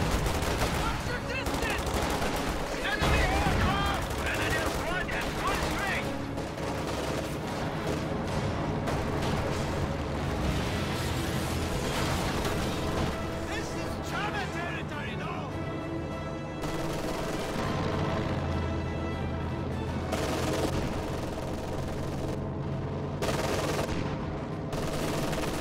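A WWII real-time strategy game match with infantry squads and Panzer IV tanks produces dense, continuous battle noise: rattling machine-gun bursts, rifle shots and heavy booms layered into a loud, unbroken din.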